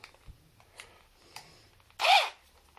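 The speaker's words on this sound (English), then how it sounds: "Now I'm going to take and change the bit again to the head size of the screw" A handheld drill has its bit swapped for one matching a screw head during a DIY shelf job: a few sparse clicks and taps from the chuck, then a short, loud burst of motor whir near the end.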